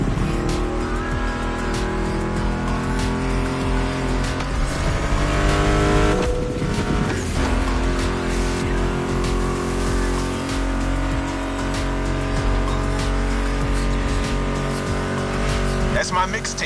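Muscle car engines roar continuously while racing in The Crew Motorfest, with loud revving, tire squeal and skidding under background music, and a voice talks over the engines.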